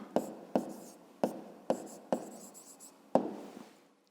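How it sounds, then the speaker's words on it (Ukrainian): A pen writes a maths answer on paper with six distinct, close scratching strokes at an even pace, each fading quickly, the last one firmest before a quiet trail-off. "Ну, а тепер записуємо відповідь, власне. Пишемо відповідь."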